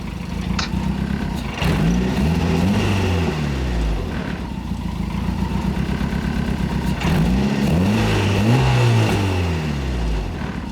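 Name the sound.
turbo car engine popping flames on two-step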